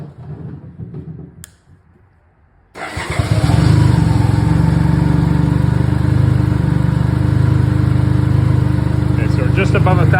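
BMW K75 motorcycle engine cranking briefly, then catching and settling into a loud, steady idle that carries on close by to the end.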